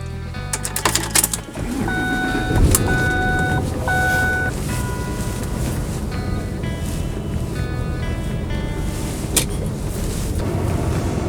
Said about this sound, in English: I'm going to drive down the road for a bit.